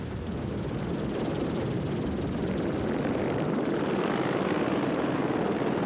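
A helicopter flies over the Paris-Dakar rally in 1997, its rotor chop a loud, steady, close drone that holds for several seconds with no voices.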